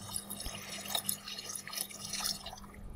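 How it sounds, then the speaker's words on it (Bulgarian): Filtered water pours into a cooking pot with a close, continuous splashing trickle and a few brighter drips, heard alone without talking. "И сега е време да си налея водата в тенджерата."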